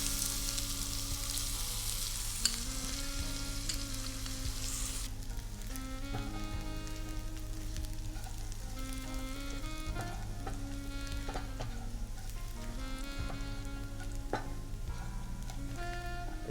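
Chopped onions frying in a pan for Hyderabadi veg biryani, a soft continuous sizzle over a long stretch with occasional stirring ticks, faint beneath a steady background hum.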